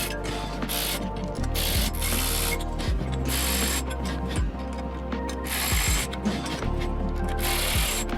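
A Ryobi 4-volt USB lithium 3/8 inch cordless ratchet tightens bolts while a Harbor Freight Pittsburgh shop stool is assembled, with repeated whirring motor bursts and ratcheting clicks, several close, loud runs separated by brief pauses.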